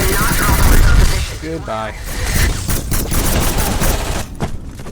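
Dense video-game gunfire in Call of Duty: Black is heard, loud and steady, while a voice speaks briefly over the shooting.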